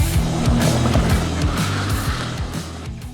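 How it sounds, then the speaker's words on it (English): A Ninebot Go Kart PRO drifting: a loud, close electric motor whine that repeatedly rises and falls in pitch over rolling wheel and surface noise, continuous throughout with no talking. "Today I'm going to show you our new drift go-kart project."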